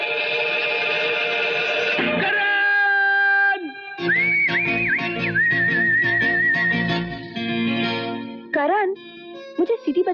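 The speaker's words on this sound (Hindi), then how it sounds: "सीटी बजाना सिखाना प्लीज।" A person whistling a wavering, sliding melody in several bursts, fairly close and loud, with a pause in the middle and short warbles near the end.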